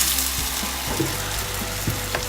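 Tomato sauce hits a hot pan of garlic and olive oil on medium heat, a loud steady sizzle with a few stirring knocks and scrapes, close up and with no voices.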